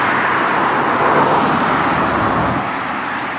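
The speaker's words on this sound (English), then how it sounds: "It's interesting how this bridge shakes when big vehicles drive over it." Heavy vehicles rumbling across a riverside bridge in Riga, a steady broadband road roar with low-end weight that swells slightly midway and then eases, with no voices.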